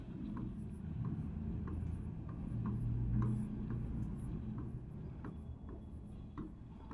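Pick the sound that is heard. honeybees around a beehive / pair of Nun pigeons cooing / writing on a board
writing on a board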